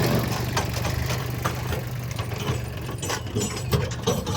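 A small farm tractor engine idles with a steady low rumble and some mechanical rattling, fairly close and without talk.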